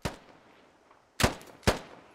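Gunfire in the SquadOps tactical shooter game: one shot at the very start, then two sharp, loud reports about half a second apart after a quiet stretch, each with a short echoing tail.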